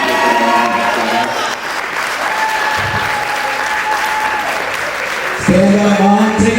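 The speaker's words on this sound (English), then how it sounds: "And so I want to make sure we give them a round of applause." Audience applause at a breakfast brunch affair, steady dense clapping from a crowd filling the room, swelling louder near the end, with voices mixed in underneath.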